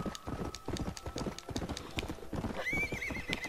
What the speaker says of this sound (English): Frank the horse.